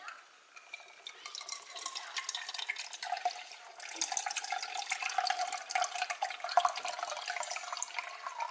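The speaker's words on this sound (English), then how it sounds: "I'm gonna pour it just down the middle" Half a cup of water poured down the middle of a disposable diaper, a steady close trickle that swells and splashes for several seconds with no voices.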